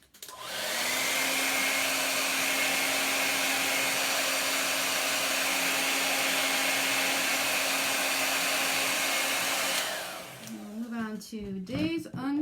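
A hair dryer drying chalk paste on a Chalk Couture Christmas countdown sign runs as a steady, close, loud whoosh for about ten seconds, then cuts off and is followed by a brief bit of voice.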